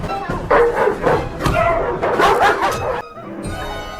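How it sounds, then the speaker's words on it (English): Dogs bark and yip repeatedly at close range amid agitated, busy noise in the animated film Bambi II, a few short bursts clustering together before the sound thins out near the end. "Dogs!"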